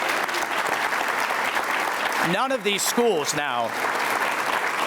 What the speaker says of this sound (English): And I think that deserves a real round of applause.